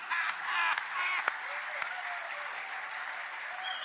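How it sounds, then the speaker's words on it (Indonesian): An audience claps in a steady, dense wash of applause, moderately loud and continuous for several seconds, with a few sharper individual claps standing out. "Tepuk tangannya tidak ikhlas."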